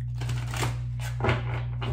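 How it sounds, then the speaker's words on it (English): A deck of tarot cards is shuffled close by in a few soft riffling bursts over a steady low electrical hum. "One more shuffle here."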